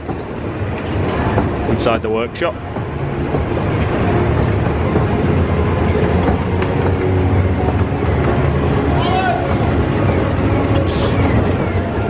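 The Icon roller coaster train at Blackpool Pleasure Beach rumbles past with steady clattering and rattling over the track, loud and continuous, while a voice speaks briefly over the noise.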